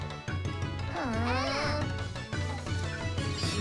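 Cartoon cat meowing in a WarioWare Gold microgame, one drawn-out rising and falling meow over upbeat video game music.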